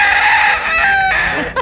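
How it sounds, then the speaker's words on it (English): A rooster at an RV park gives one loud, close crow that carries through to the end, with no other sounds around it. "The rooster was crowing, so."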